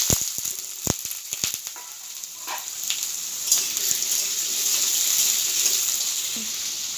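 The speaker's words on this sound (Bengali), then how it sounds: "তেল গরম হয়ে গেছে, আলুগুলি ভেজে নিচ্ছি" Small diced potatoes dropped into hot oil, opening with sharp clacks and clatter as they go in, then settling into a steady, rising sizzle that fills the rest, close and fairly loud.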